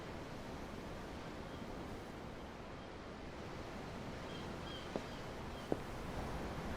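Steady ocean waves and surf wash continuously in the Tales of Arise video game while on a ship at sea, a soft even roar with two faint brief clicks near the end.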